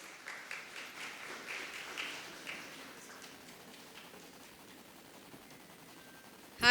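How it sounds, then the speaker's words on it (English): Scattered, thin applause from a forum audience at the Bombay Chamber Inclusion Forum & Awards, a handful of distinct claps early on that fade into quieter background patter. "A huge round of applause for Meenakshi"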